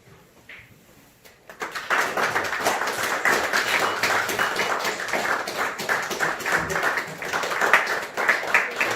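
Congregation applauding at a Korean Presbyterian pastoral ordination ceremony: a quiet moment, then loud sustained clapping breaks out and continues steadily, many hands in a dense rhythmic patter filling the room.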